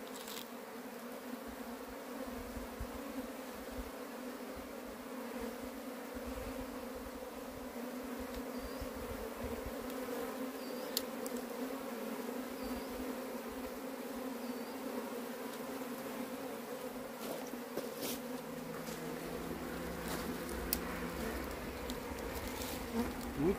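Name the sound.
bees climbing into a hive box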